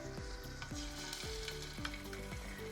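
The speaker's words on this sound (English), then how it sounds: "So you can see the sizzle." Shrimp sizzle steadily in hot olive oil, a bright continuous crackle with soft clinks of a utensil moving through the pan.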